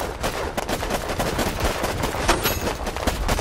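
Bombs going off in the battlefield strategy game Warpips, a dense, continuous barrage of loud overlapping blasts and crackling bursts with no pause, sounding close and heavy throughout.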